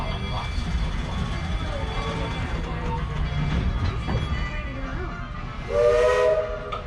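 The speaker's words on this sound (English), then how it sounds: "You hear a single whistle and the words "all clear."" A single Walt Disney World Railroad train whistle blast sounds near the end, a brief steady all-clear tone over a constant low rumble and hiss of background noise.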